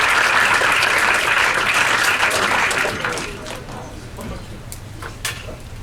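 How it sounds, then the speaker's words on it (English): A high school club audience claps at a meeting, dense applause that tapers off midway, leaving a few scattered claps and faint chatter in the room. "let's clap it up for that."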